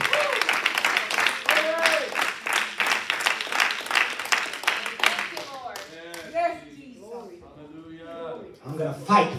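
A church congregation claps hands in a quick, steady rhythm for around five seconds, then the clapping gives way to a preacher's loud, sung-out speaking.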